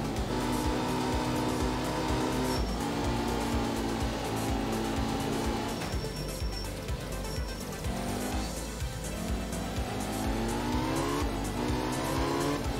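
A rally car in the Art of Rally video game drifts through corners, its engine droning and revving steadily while tire squeal rises and falls throughout, loud and continuous with no talking.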